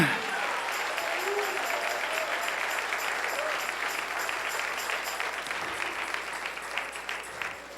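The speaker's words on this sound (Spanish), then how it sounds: "Dale ese aplauso al Rey, porque Él vive." Sustained applause from a church congregation, steady and full throughout, with a faint preacher's voice underneath.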